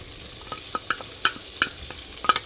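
Garlic sizzles softly in melting butter in a pan while being stirred, with a steady low fry and scattered light scrapes and clicks of the utensil.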